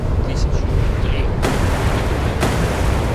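Missile explosions strike warships in the naval combat game Sea Power, two sharp broadband blasts about a second apart over a dense low rumble of battle noise, with a voice talking throughout.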